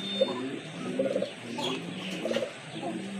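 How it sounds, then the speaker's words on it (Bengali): A male Arabian Koka pigeon, a running breed kept with its mate, coos in repeated low rounded phrases close by, several calls in a row. "এটা কিন্তু আপনার রানিং কবুতর। এই যে দেখেন ডাকতেছে"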